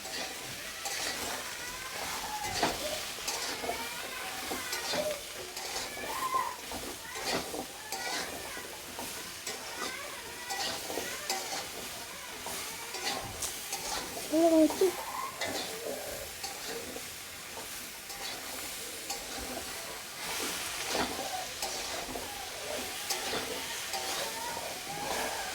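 Spices and turmeric fry in a pan with a steady sizzle while a spoon stirs and scrapes in frequent strokes. A brief clink sounds partway through, and a voice may be faintly audible beneath the cooking.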